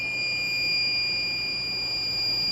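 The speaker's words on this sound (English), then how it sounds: "So it's obviously a low voltage alarm" A low-voltage alarm on a homemade 60-volt battery generator running an air fryer sounds as a continuous, loud, steady high-pitched electronic tone, unbroken for the whole moment with no talk over it.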